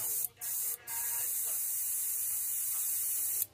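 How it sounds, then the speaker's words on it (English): Pearl magenta paint hisses from an airbrush onto the belly of a bluegill fishing lure, a close continuous spray broken by two brief pauses near the start. "we're just gonna spray the bottom part of his belly"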